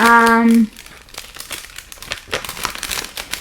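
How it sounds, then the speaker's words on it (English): A paper mail envelope is opened close up: a short electronic tone, then a run of crisp crinkling and tearing paper sounds, loud and near. "when you open the envelope, this is how it looks like"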